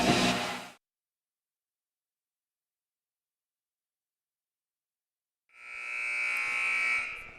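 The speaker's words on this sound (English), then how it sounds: "As the buzzer sounds, Zahner, he's going to inbound it." A basketball game buzzer blares briefly at the start, then silence, before a sustained electronic buzz returns near the end, loud and close at a high school game.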